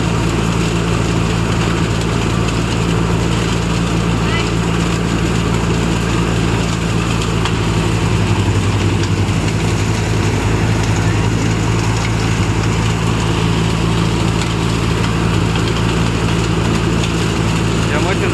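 A Punni multicrop thresher driven by a Farmtrac 60 tractor runs steadily during soybean threshing, a continuous loud mechanical drone with engine hum throughout, while voices talk over it.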